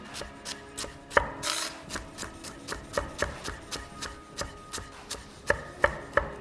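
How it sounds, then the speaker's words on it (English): Knife finely slicing leafy herbs on a cutting board, a quiet, steady series of crisp chopping taps at an even rhythm, close up with no talking. "turn this sideways and make a very fine slice"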